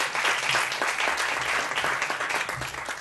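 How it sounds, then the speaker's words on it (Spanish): Dense, steady applause from a seated audience at an International Women's Day round-table panel, honouring speaker Irene Salas and holding at an even level throughout. "me gustaría pues ya un último aplauso para nuestra ponente"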